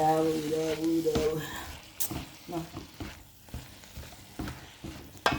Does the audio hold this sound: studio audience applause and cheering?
no